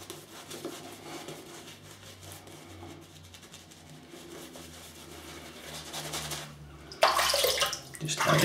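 Water is poured onto a very soft shaving brush and a thirsty artisan shaving soap lather, a steady trickling splash that swells loudly toward the end.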